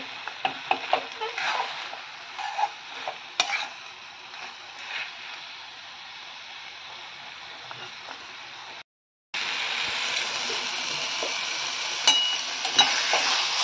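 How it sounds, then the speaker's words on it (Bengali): Prawns and taro leaves fry in a pan for Bengali chingri kochur shak, a steady sizzle broken by repeated scraping strokes of a stirring spoon, with a brief cutout before the frying returns louder. "এখন আর ঢাকা দেব না, খালি নাড়ব।"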